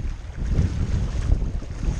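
Boat pounding through rough, choppy waves at Gökova in strong wind, a steady low rumble of water and wind buffeting the microphone, loud and continuous without talk.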